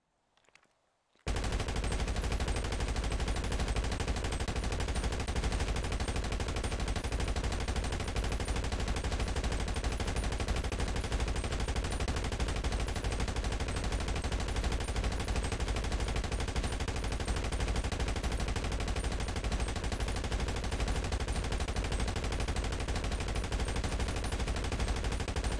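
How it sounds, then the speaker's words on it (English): Machine guns firing tracer rounds in GTA Online: a dense, unbroken stream of rapid automatic gunfire, loud and steady for the whole stretch after a brief quiet start, with no voices. "you get the tracer effect on every single bullet you fire"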